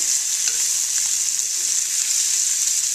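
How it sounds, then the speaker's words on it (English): Bacon strips sizzle steadily in a frying pan as they are flipped, a continuous, fairly loud crackling hiss with a brief clatter near the start and no talking. "Take a look at how our bacon's doing. Alright, starting to get crispy on one side. We'll just flip them over."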